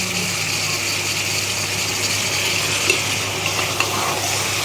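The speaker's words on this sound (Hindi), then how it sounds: "इसको अभी इसलिए डाल दिए ताकि मसालों के साथ भी बढ़िया से फ्राई हो जाए" Mutton lungs frying with spices in a pan for mutton pachauni, a steady loud sizzle throughout with occasional small pops and stirring sounds, close up and without talk.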